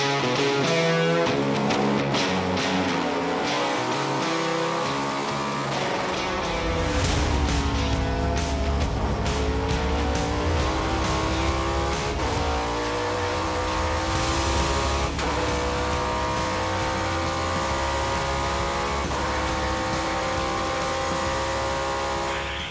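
A 900-horsepower race car laps the track, its engine a loud, continuous howl that rises and falls through gear changes for the whole stretch, with no talk over it.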